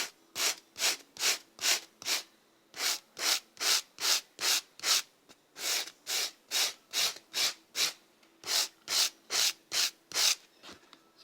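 Guitar frets being sanded with a sanding sponge: brisk, rhythmic back-and-forth rubbing strokes, about two per second, in close, clean bursts separated by brief pauses, with no voices.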